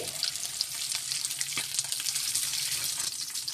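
Broth poured into a pot of sardines and onion on the stove, giving a steady close splashing and bubbling hiss with faint clinks, with no talk over it.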